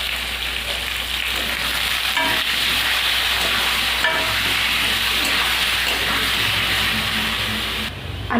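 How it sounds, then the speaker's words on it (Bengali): Potatoes frying in oil with salt and turmeric, a close, steady sizzle broken by a few scraping stirs, with no talking. "আলুগুলো দিয়ে লবণ, হলুদ।"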